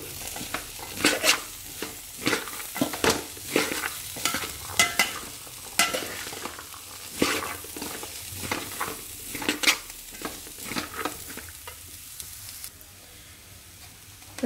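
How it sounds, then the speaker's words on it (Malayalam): A spoon stirs a mango ginger pickle mixture in a bowl, giving repeated rhythmic scraping and clinking strokes, close and fairly quiet, with no talking. "ഇനി നന്നായി ഒന്ന് മിക്സ് ചെയ്തെടുക്കാം."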